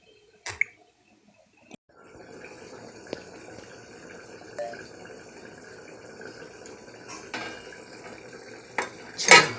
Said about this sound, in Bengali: ঢেকে দেবো, ঢেকে ফুটতে থাক এটা।